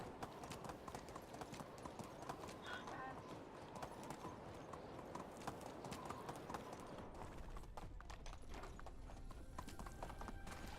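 Hooves clip-clop in a quick, steady rhythm as a horse is ridden in the Medieval Dynasty video game, with a brief whinny and a voice talking over the galloping.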